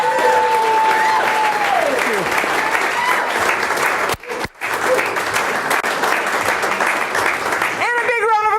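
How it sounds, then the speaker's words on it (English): Big round of audience applause for a performer at the close of a stage show, loud and continuous, with brief cheering and a voice speaking over the clapping near the end. "could we have another big round of applause for the beautiful Michelle?"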